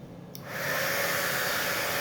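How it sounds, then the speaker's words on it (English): A heat gun melts embossing powder, starting with a click and rising into a steady, close, loud blowing whoosh. "I'm using a heat tool,"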